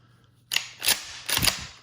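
Mossberg 500 shotgun pump action racked back and forward, two sharp metallic clacks about a second apart, close and clear with no talk.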